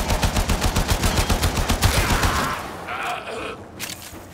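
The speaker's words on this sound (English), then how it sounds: "So I got a sniper rifle." Sniper rifle gunfire in the video game Warframe, a rapid, steady train of loud, close shots for about two and a half seconds, followed by a muffled whoosh and rumble as the firing stops.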